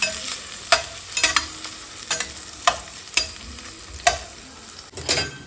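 Crushed onion, ginger, cumin and turmeric fry in a pan for Madurai mutton masala: a steady soft sizzle broken by regular scraping stirs every half second or so, close and fairly quiet, with no talking.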